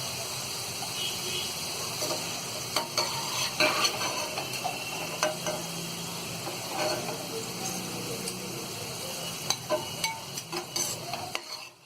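Taro root (arbi) frying in oil over a full flame, giving a continuous close sizzle with intermittent scraping and ticking utensil knocks, steady throughout and without voices.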